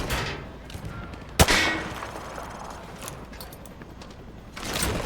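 Gunfire penetrating light cover in Modern Warfare 2 Remastered: one sharp, loud shot with a ringing decay, a steady murmur of background noise, and another swelling burst just before the end.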